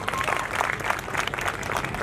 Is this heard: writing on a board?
no